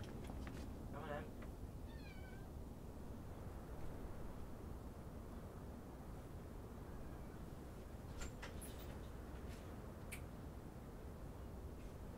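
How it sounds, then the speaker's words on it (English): Several house cats meowing to be let out, a couple of short mews early on, faint over steady background hiss, with someone talking. "There was about four cats just chilling out, and they're all out now."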